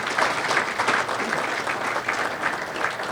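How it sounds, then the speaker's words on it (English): Sustained, dense applause from an awards-night audience at a sports awards ceremony, fairly loud and even throughout with no break. "Let's clap it up for that."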